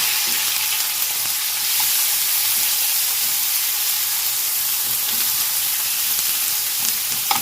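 Samgyeopsal pork belly sizzles steadily in a pan at home, a dense continuous hiss of fat frying close up with no talk over it.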